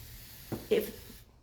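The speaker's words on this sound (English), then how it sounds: "you use your continuous mist spray bottle and you have to wet it" Two quick, soft spritzes from a spray bottle, the second a bit stronger, followed by a fading hiss and then silence.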